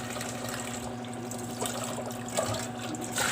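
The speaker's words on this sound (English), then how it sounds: "Going to wash our meat so there's no blood." Tap water runs steadily while plain pork tenderloin is rinsed for a stir-fry, a constant close splashing flow with faint handling sounds over a low hum.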